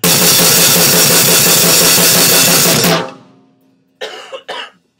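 Dense, relentless metal blast beat on drums at very high speed for about three seconds, a continuous wall of cymbal and snare hits, then a sudden stop and a few brief noises.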